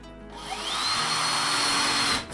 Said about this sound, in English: So I'm screwing those in.